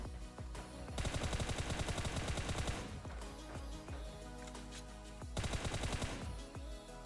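Bursts of automatic gunfire in PUBG Mobile during a competitive scrim match, two long dense volleys of rapid shots with scattered single shots between, loud and close.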